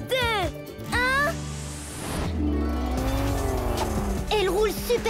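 A heavy cartoon monster truck revs hard and peels away, a loud roaring engine with screeching tires and rising pitch sweeps, mixed with animated sound effects and voices.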